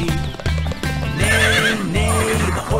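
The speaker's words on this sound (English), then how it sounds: "Horse goes neigh" A horse in a children's animal-sounds song neighs repeatedly in rising, whinnying calls over steady clip-clop hoof beats and bright musical backing, loud and close throughout.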